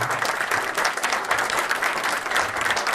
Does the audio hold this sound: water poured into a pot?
no